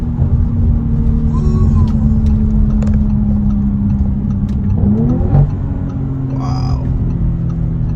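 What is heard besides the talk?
Audi RS5 Sportback engine accelerating in first gear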